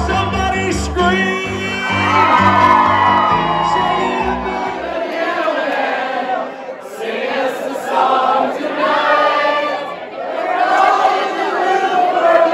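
A crowd at a dueling pianos show in Shenandoah, Iowa screams, whoops and cheers loudly and continuously in waves, with many overlapping yelling voices close by and piano music under the noise at the start.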